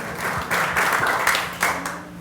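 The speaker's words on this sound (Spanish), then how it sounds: "por los cálidos aplausos" Audience applause at a novel presentation, a moderate burst of hand clapping from a room of listeners that swells and fades over a couple of seconds with a faint steady hum beneath.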